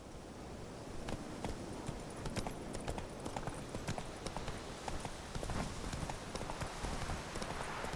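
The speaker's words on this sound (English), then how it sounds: "Run, Roach" Horse galloping in The Witcher 3 video game, a fast steady run of hoofbeats over a dense rushing background that keeps a brisk, even rhythm for the whole stretch, with no talk.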